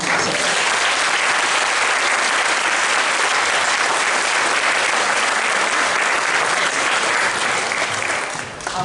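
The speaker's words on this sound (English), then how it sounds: "just a round of applause for this incredible donor and his generosity" A school concert audience gives a sustained round of applause for a donor at a middle school choir fall concert, dense steady clapping filling the hall throughout before tapering slightly at the end.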